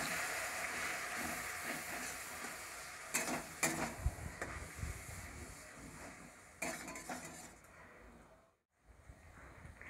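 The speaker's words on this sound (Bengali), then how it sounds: "এবার আমি অল্প একটু জল দিয়ে মশলাটা ভালো করে কষিয়ে নেব।" Spice paste with chili powder and a splash of water cooking in a pan for Bengali rohu fish curry, a continuous sizzle broken by a few clattering stirs and scrapes, then a brief sudden drop near the end.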